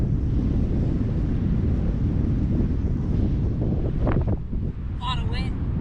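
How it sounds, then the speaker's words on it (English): Strong wind batters the microphone on a cliff above a black sand beach at Piha, New Zealand, a constant loud roar that briefly eases near the end as a voice is heard. "Lot of wind. A lot of wind."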